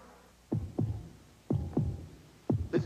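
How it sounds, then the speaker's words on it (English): Heartbeat sound effect in a Chevy truck commercial: three pairs of deep, thumping lub-dub beats, evenly spaced about a second apart, close and isolated over a faint hum. "Listen to the heartbeat."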